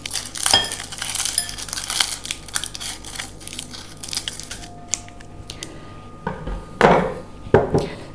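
Scissors cut dry onion skins into small bits for marbling Easter eggs, with crunchy crinkling snips and rustles close by, irregular bursts and a few sharper cuts near the end, no voices.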